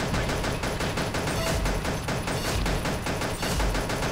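Rapid gunfire from Pixel Gun, a blocky Minecraft-style shooter game: a dense, continuous stream of quick shots at loud, even volume for the whole stretch.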